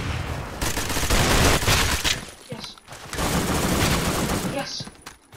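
Rapid video game gunfire in a Roblox gun game, dense bursts of loud close shots in two long runs separated by a brief lull, with a voice briefly audible.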